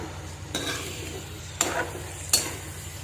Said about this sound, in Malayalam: ശർക്കര പാനി ഒഴിച്ചു കൊടുക്കാം. നല്ലപോലെ ഇളക്കി യോജിപ്പിക്കുക